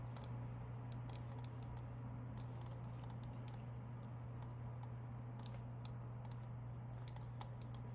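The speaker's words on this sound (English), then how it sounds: "Definitely a lot of clicking" A computer keyboard clicks in irregular bursts of keystrokes, faint and steady over a constant low electrical hum.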